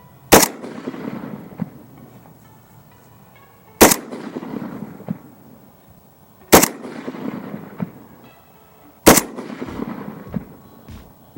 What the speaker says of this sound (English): The next two I'm going to be shooting a 5-shot group of Monarch, and then this Norinco stuff.